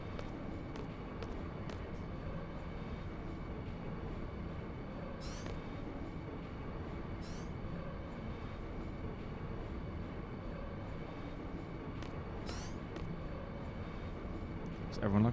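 Train in the Final Fantasy VIII video game, a steady rumbling rolling drone with periodic brief hissing bursts, continuous and moderately loud under game ambience.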